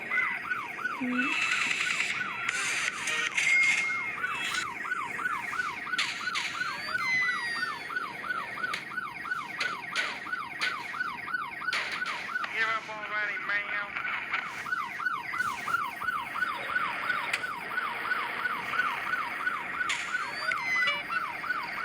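A wailing police siren from the video game Dude Theft Wars cycles rapidly and continuously up and down, bright and synthetic, with faint engine and clicking sounds underneath.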